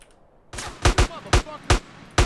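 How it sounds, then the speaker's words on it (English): Police gunfire in GTA: San Andreas: a rapid burst of loud, sharp shots spaced irregularly, with about seven close booming reports in two seconds. "Because I'm getting shot by cops now."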